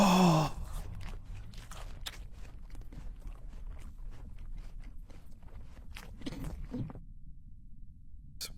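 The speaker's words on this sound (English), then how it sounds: "Some fucking insane chewing noises." Wet, loud chewing and munching in VRChat, a continuous rhythmic stream of close smacking bites that cuts off abruptly near the end, with no talk over it.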